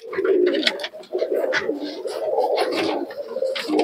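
Pigeons cooing at a pigeon market in Murshidabad: steady, close, overlapping throaty coos that continue without a break, with no talking.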